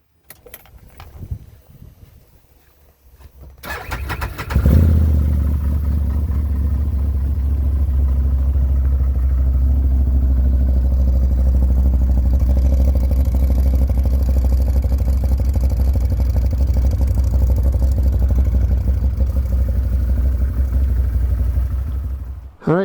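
A motorcycle engine starts after a few seconds of quiet handling noises and keeps running steadily at a loud, close idle for the rest of the clip, setting off for a first short ride.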